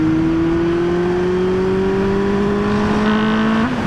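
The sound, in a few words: Honda CB400 Super Four motorcycle revving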